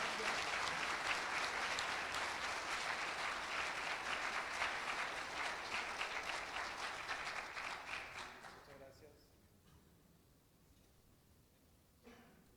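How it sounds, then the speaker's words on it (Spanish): An audience at a judicial lecture on access to justice applauds a speaker. The loud, sustained clapping fades out after about nine seconds, leaving quiet room tone and a brief final sound. "Un fuerte aplauso para el maestro Jorge Guillermo Olvera García."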